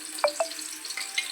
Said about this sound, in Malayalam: നമുക്ക് കുറച്ച് ഉള്ളി വറുത്തെടുക്കാം.